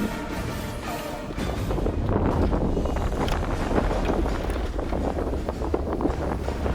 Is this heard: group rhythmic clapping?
no